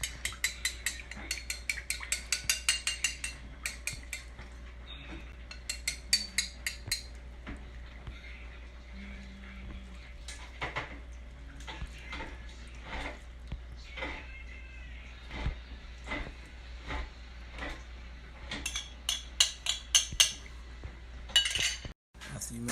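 Oil and apple cider vinegar vinaigrette is shaken to mix it, giving fast rhythmic clinking and rattling bursts of glass and metal. Quieter, scattered clinks follow, with faint background sounds.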